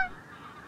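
A greylag goose gives a brief honk at the start, fairly faint and at a distance in an open field, with no talk over it.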